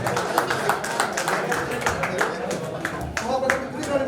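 An audience claps steadily at a school alumni reunion felicitation ceremony, dense and close, with talking under the applause.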